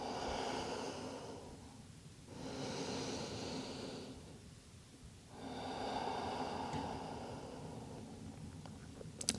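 Slow, deep breaths during a Pilates session, three long airy inhale-exhale cycles rising and falling close to the mic with no talking.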